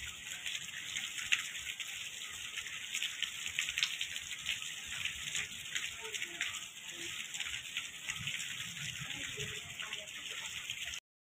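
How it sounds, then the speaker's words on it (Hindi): Heavy morning rain falls steadily outdoors, a constant broadband hiss with scattered drips and splashes, faint and continuous throughout. "बारिश भी बहुत ज़्यादा तेज़ लगी हुई है"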